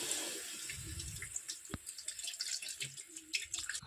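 Water is poured into a pan of fried kolmi greens (water spinach), a steady splashing, trickling stream close by, with no voices.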